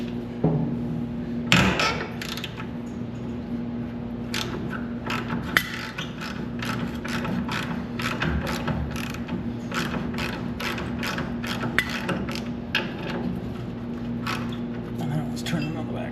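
A ratchet wrench removing bolts from the roller of a Lawn Genie mower, rapid repeated clicking bursts close by over a steady background hum, with talking throughout.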